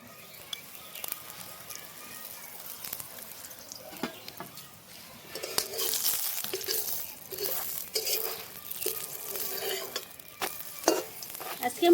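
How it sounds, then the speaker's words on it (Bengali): Bathua leaf paratha fries in oil in a kadai in a village kitchen, giving a steady close sizzle that swells and crackles louder partway through, with occasional stirring and scraping against the pan. "আজকে আমি পরোটাগুলো কড়াইতে ভেজে নিচ্ছি"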